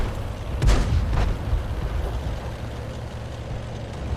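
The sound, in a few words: artillery strike explosion in World of Tanks video game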